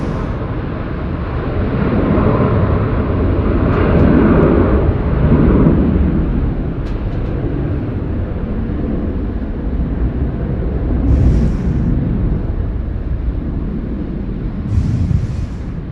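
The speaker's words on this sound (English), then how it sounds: "Philippine Airlines now departing runway 16 right" Philippine Airlines plane taking off from runway 16 right at Sydney Airport, a loud, sustained low jet roar swelling to a peak and holding as a broad rumble, heard from a distance.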